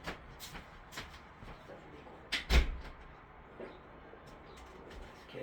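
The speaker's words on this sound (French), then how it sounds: "Il faut aller fermer la porte de l'entrée." A front entrance door is pushed shut with one solid thump midway, preceded and followed by lighter knocks and shuffling, with faint bird cooing in the background.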